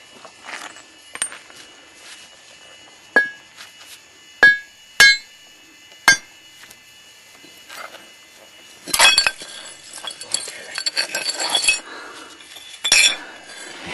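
A stone hammer strikes a large basalt biface during field spalling, giving several sharp, isolated clinking knocks with pauses between them. A burst of gritty scraping and rustling follows. Close and clear, with no talking.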